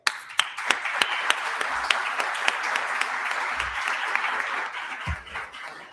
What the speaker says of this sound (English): I'd like you all to give a great round of applause to my good friend and fellow attorney